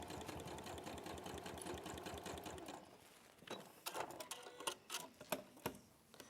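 A sewing machine top stitches binding on a bag, first a fast steady whirring hum, then a quieter stretch of slower, uneven ticking stitches with clicks. It is faint and close, with no talk.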